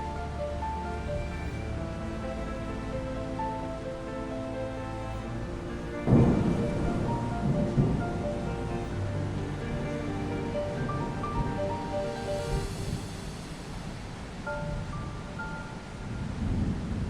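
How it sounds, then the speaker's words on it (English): Heavy rain pours steadily while thunder rolls in, a sudden loud crack around the middle giving way to a long rumble, all beneath a low, sustained tonal drone, with no one speaking. "Raining cats and dogs."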